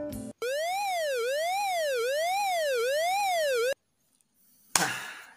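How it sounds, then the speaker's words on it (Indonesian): An electronic siren wails at a primary school opening ceremony marking the start of orientation week, a loud rising-and-falling tone cycling steadily for about three seconds before stopping abruptly, followed by quiet and a brief thump. "lalu membunyikan sirine sebagai tanda dimulainya"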